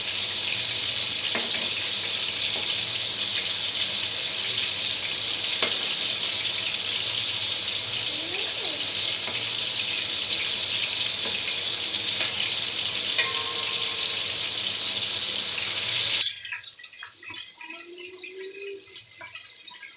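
Fish fries in oil in a pan, giving a loud, steady sizzle that runs continuously, then drops abruptly near the end to a faint, quieter kitchen background with a brief gurgle.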